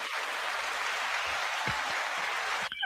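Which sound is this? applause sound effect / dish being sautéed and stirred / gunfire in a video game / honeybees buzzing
applause sound effect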